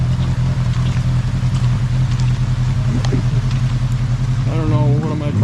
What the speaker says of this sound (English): You hear the motorcycle starting up?